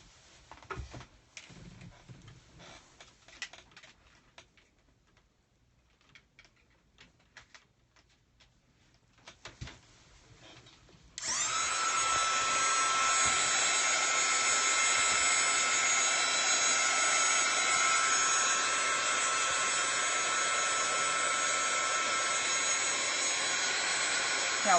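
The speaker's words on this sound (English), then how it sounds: "I have one of those heat tools." A handheld craft heat tool for drying paint on a patchwork flower switches on after quiet shuffling and a few clicks, then blows with a steady, loud, continuous whooshing hum for the rest of the time.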